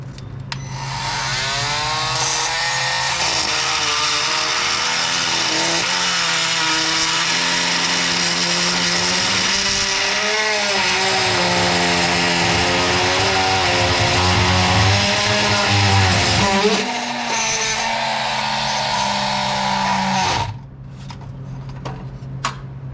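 A power tool grinds through a nut and stud on a 2001 Miata six-speed transmission, with a loud, sustained whining cut whose pitch wavers as the load shifts before it winds down.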